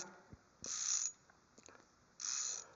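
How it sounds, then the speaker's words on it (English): An ICON 1/4-inch drive flex-head ratchet with an X-frame, 6-pawl design clicks in two close bursts of very fine, rapid ratcheting, separated by a quiet pause. "He's got a sound that you don't hear in any other type of ratchet wrench, that's for sure, being that many positions."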